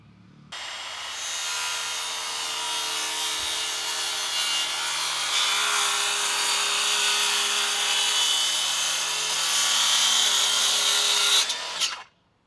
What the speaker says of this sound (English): We have now cut the top shelf.